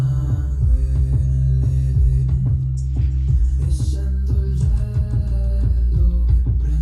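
A music mix plays back with extremely heavy low bass, a loud, continuous deep rumble under repeated rhythmic hits throughout.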